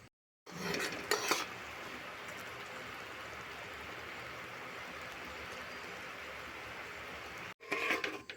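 Cooked jaggery mixture for Joynagar moa is stirred off the heat to cool, a steady low scraping rasp in the pot with a few louder clinks of the utensil at the start and end.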